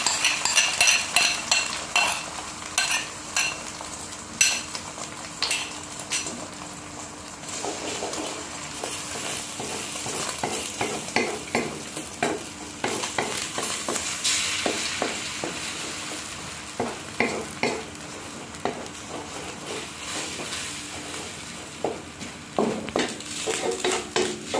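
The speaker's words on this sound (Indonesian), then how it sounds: "Ini untuk telurnya saya orak-arik dulu." Eggs scrambled in a heated wok, with crisp sizzling under repeated scraping and clinking of a utensil against the metal pan, close and busy throughout.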